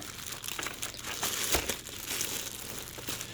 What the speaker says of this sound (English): we're going to take out the main power head out of this little plastic bit